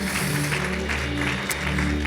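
Congregation applauding in a church service, steady dense clapping filling the room with a faint sustained tone beneath.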